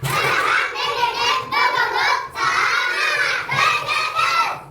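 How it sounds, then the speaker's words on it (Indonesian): Schoolchildren in a classroom do a spirit clap, several bursts of rhythmic clapping and loud group shouting close by, chanting together in unison. "Tepuk semangat"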